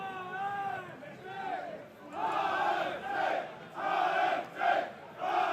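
A home football crowd in Hamburg at a FENIX Trophy match, HFC Falke against CD Cuenca-Mestallistes, shouts and chants in loud surging waves, with voices swelling and falling several times.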